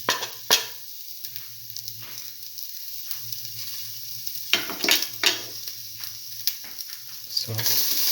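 Fennel seeds and ginger sizzle in a hot pan for a lentil tomato stew, a steady fry punctuated by several sharp stirring scrapes and clinks close by, with no talking.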